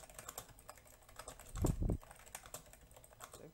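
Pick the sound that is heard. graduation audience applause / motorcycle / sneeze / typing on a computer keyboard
typing on a computer keyboard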